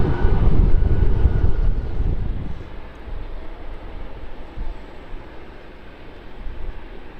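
Qantas airliner in retro livery landing on runway 16 right at Sydney Airport, a loud roaring engine rush that fades within a few seconds into a distant, wind-buffeted rumble.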